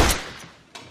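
A single sharp gunshot from a western film rings out at the start, with a brief echoing tail and a fainter second crack near the end, no talk over it.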